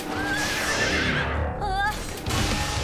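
Cartoon robot horse neighing with a bright whinny that rises and wavers, loud and close, followed by a second short neigh over a busy animated soundtrack.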